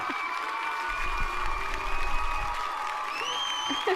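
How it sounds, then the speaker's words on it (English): A crowd cheers and applauds in a sound effect that stays steady for a few seconds, with whoops over a constant layer of clapping. "Perfectly executed applause noise."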